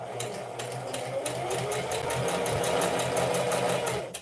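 A sewing machine runs steadily while it stitches a seam with pins in the fabric: a close, continuous mechanical whir with a fast needle patter, which stops abruptly at the end.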